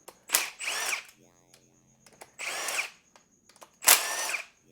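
A power tool zips bolts off a 4L80E transmission in three loud close bursts, each with a rising whine and rattle, separated by quiet gaps with faint clicks and metal clinks.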